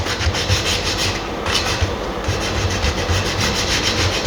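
100 grit sandpaper rounding off a wooden part of a Japanese sanshin head, rapid close rasping strokes in a quick, even back-and-forth rhythm, loud and continuous with no talk.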